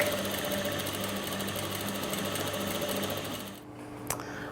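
A sewing machine runs a line of gathering stitches parallel to an earlier row without back tacking, a fast, even, close whir that stops near the end, followed by a single small click.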